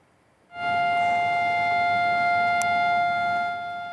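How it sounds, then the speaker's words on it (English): A civil defense siren blares across Israel for Holocaust Remembrance Day, starting abruptly after a quiet moment and then holding one loud, steady wailing tone with distant outdoor ambience. "sirens blared early this morning across Israel to mark Holocaust Remembrance Day"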